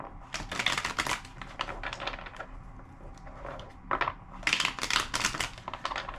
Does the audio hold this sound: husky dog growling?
no